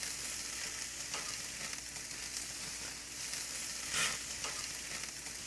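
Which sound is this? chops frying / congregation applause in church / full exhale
chops frying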